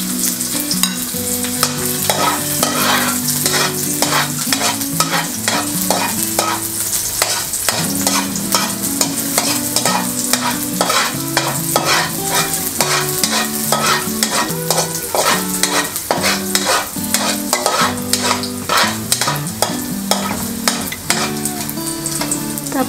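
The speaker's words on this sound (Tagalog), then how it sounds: "Ngayon po ay ilagay na natin yung ating bawang." Garlic sautés in hot cooking oil for ginisang togue, a loud, continuous sizzle broken by rapid rhythmic stirring and scraping of a utensil against the pan throughout, with no speech.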